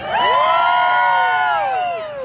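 A lively crowd at a Brewfest in Olympia, Washington, whoops and cheers loudly all at once. The overlapping shrill shouts and calls carry for the full stretch, close and energetic.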